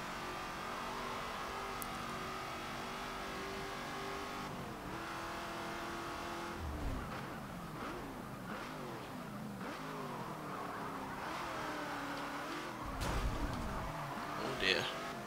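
Open-wheel race car engines in Forza Motorsport 7 scream and rise, with repeated upshifts and downshifts and a squeal of tires.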